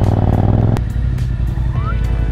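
Harley-Davidson motorcycles ride by close and loud, a deep steady engine rumble that dips slightly in level partway through and carries on as a lower drone.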